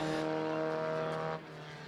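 A Formula First race car pulls away slowly from a refuelling pit stop during a one-hour race in 2023, its engine holding a steady droning tone before shifting down and settling.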